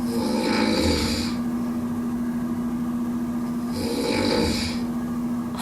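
A sleeping person with sleep apnea snores in two rasping breaths several seconds apart, with a long pause between them, over a steady low electrical hum in a quiet room.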